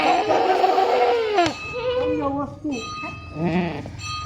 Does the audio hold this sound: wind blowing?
no